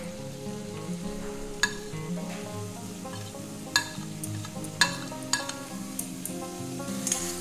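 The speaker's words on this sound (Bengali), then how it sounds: "মশলা পনির একটু আরও ভেজে নেব পটলের সাথে।" Spiced grated paneer fries with previously fried pointed gourd (potol) in a pan, giving a steady soft sizzle broken by occasional sharp scrapes and clinks from stirring.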